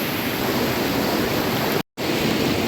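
River water rushing around a rock in Jujuy, a steady, loud broadband roar of flowing water heard up close with no voices, broken by a brief gap of silence.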